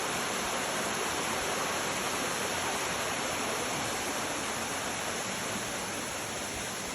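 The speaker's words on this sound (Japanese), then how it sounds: "こちらは高尾山ふもとのビワ滝です。" Biwa waterfall at the foot of Mount Takao, in full flow after rain, pours in a loud, dense, constant roar of falling water that never varies, with no voices.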